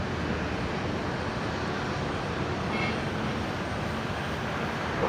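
A jet rolling for takeoff at Brisbane International Airport, a broad steady engine roar heard from some distance, constant and unbroken, with no voices over it.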